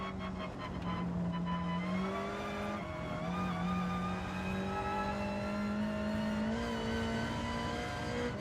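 Several Gr.3 race cars from Gran Turismo 7 roar past in a steady, loud, high-revving engine drone, with pitch rising and shifting as cars accelerate close by and change gears throughout.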